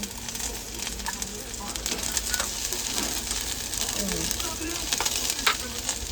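Garlic frying in a very hot pan on a stove, with a steady close sizzle and crackle running throughout alongside faint stirring and scraping.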